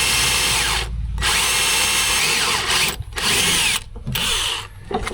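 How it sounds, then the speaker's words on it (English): A power drill whines loudly in several bursts, pausing briefly between runs as the bit grinds into aluminum on a Land Rover, close and harsh. "And it didn't drill into the car."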